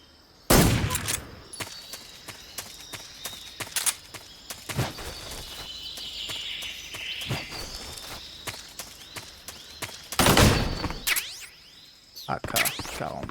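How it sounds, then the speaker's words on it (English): AK-47 gunfire in Metal Gear Solid 3: several loud, sharp bursts at irregular intervals, some clustered, with quieter footsteps and game sounds between them. "AK-47."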